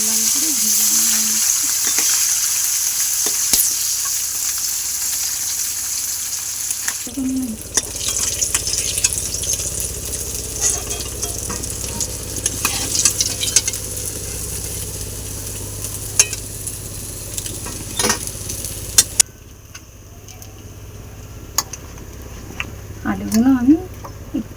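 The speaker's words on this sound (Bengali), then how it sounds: "এবার এগুলো একটু ভালো করে লাল লাল করে ভেজে নেব।" Potatoes and eggplant fry in hot oil for a rui fish curry with potato and eggplant. A steady, close sizzle runs throughout, broken by occasional stirring clinks and faint background noises.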